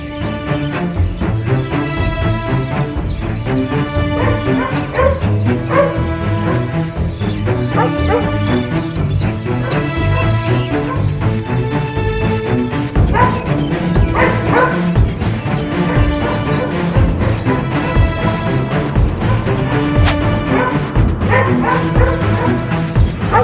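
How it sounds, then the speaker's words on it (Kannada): A dog barks, yips and whimpers over and over in a Mahabharata drama scene, blended into loud, continuous music that runs the whole time. "ಆ ನಾಯಿಯನ್ನು ನೋಡಿಕೊಂಡು ಬಾ"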